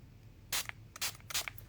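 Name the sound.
light mists of card spray on a trading card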